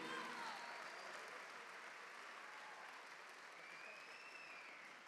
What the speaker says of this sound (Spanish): Recibamos un fuerte aplauso al poeta de la bondad en Puerto Rico, Eric Landrón.